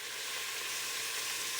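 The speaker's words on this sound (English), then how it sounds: "you can start to hear the sizzle" Chopped onions sweating in a pot for French onion soup give off a steady, even sizzle that stays constant and moderately loud throughout, with no voices.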